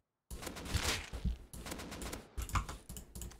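Short bursts of AK rifle spray fire in the survival game Rust, three rapid clusters of shots separated by brief gaps, with keyboard and mouse clicks close by and no speech.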